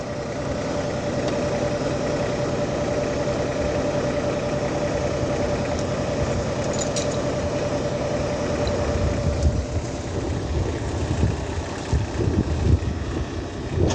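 A Massey Ferguson 6026 tractor engine runs steadily at a mid-range idle, a continuous close drone with a faint whine, roughening slightly toward the end.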